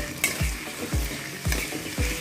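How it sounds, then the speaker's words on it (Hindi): Potatoes fry in oil in a kadai, a steady close sizzle broken by regular scraping stirs about every half second, with no talk. "अब इनको भी अच्छे से फ्राई कर लेंगे।"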